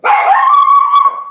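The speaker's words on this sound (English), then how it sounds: "that's my dog and the mailman." A dog in a home office gives one loud, drawn-out, close bark that stretches into a whining yowl, sounding off at a mail carrier outside, with no talking.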